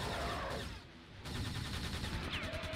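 Rapid gunfire from Quake II: Ground Zero, with turrets in play, in dense overlapping bursts that dip briefly before resuming at a steady loud level, with no talk over it.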